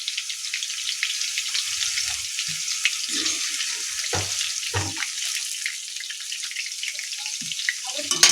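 Chili chicken frying in a pan, with a steady, bright, hissing sizzle that runs the whole way through. A few soft clinks and low knocks of utensils sound underneath.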